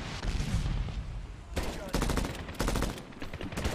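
An MK14 rifle in Medal of Honor fires several sharp, loud shots in quick succession against a busy battle background, the bursts spaced about a second apart.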